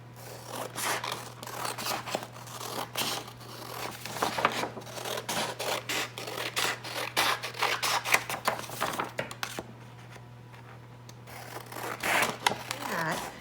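Scissors snip through colored paper stripes in a close, steady series of crisp cuts and rustles, with a constant low hum underneath and a short quieter pause near the end.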